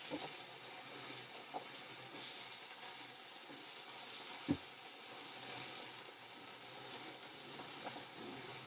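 Peanuts and green chilies sizzle in a hot pan for sabudana khichdi, a quiet, steady frying hiss with one brief clink partway through.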